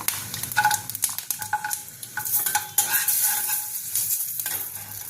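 Garam masala and cashews frying in butter in a pan, a soft steady sizzle with repeated scraping and clinking as a utensil stirs, close by.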